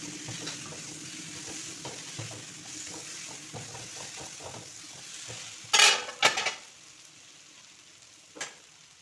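Jackfruit curry being stirred in a hot pan, with a steady low sizzle and scraping under several louder clanks of the spoon against the pan, up close and with no talk.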